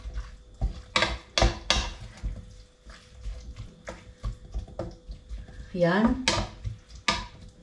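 Pork belly stirred in a pan with pepper, giving clattering scrapes and clinks of a utensil against the pan in irregular bursts, with a brief voice and a short squeal partway through.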